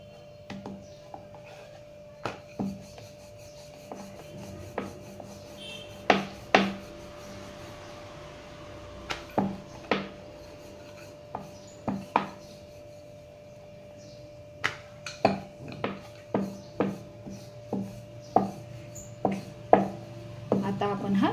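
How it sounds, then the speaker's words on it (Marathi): Methi thepla dough rolled out gently and evenly with a rolling pin, giving soft intermittent knocks and rubbing scrapes close by, irregularly spaced over a faint steady hum, with no talking. "तुम्ही पाहू शकता एकदम हलक्या हाताने आपल्याला लाटायचं आहे, म्हणजे एकसारखं सगळ्या बाजूनी"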